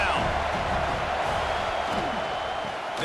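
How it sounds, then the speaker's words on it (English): Football stadium crowd at a pro game roaring in a steady, dense wash of cheering for the defense on third down, a continuous loud swell with no breaks. "Decibels rising as the crowd gets behind this defense on third down."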